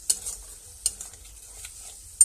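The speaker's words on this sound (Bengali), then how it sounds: "মশলা ধোয়া বাটির জল একটুখানি দিয়ে দেবো, দিয়ে মশলাটাকে ভালো করে কষাবো।" A spice paste with chopped tomato and a splash of water is stir-fried in a pan for a vegetarian banana flower curry with rice and chickpeas. Three crisp stirring scrapes sound over a soft sizzle.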